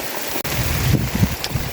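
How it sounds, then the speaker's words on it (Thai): Rain falls steadily on a rural hillside field planted with maize, a constant wash of patter with a few louder drops and thumps close to the microphone, and no voices. "ว้าว ฝนตกชุ่มฉ่ำเย็นสบายพี่น้อง"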